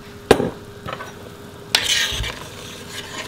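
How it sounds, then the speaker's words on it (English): A spoon stirs hamburger soup in a pot, making two sharp scraping clinks against the metal followed by softer swishes and a faint bubbling sizzle underneath, close and fairly loud, with no talk. "Stir it."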